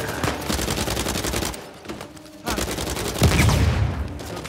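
Gunfire in the video game Uncharted 4. Rapid bursts of automatic fire rattle on loud and close, drop off briefly in a short lull, then resume with heavy shots.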